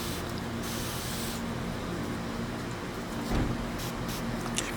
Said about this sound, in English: Spray everything.